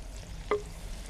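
Finely chopped onion and a pinch of cumin go into hot soybean oil in a deep pan on a gas stove, giving a low steady sizzle broken by one sharp clink of a utensil.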